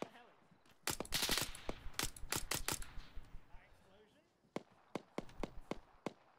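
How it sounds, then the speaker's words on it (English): Rifle fire in the Arma 3 military game, with a rapid volley of sharp shots followed by scattered single cracks at a moderate distance, while people talk over the action. "Ah no, we're firing back."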